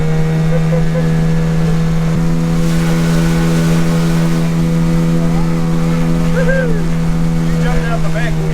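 A small aluminium motorboat's engine drones steadily on the water in a busy New Zealand port, a constant low hum with faint chirps and brief voices in the background.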